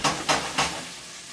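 Chicken sauteing in a hot pan for chicken Marsala, three quick sizzling bursts as pieces are stirred or moved, each followed by a softer fading hiss, close up.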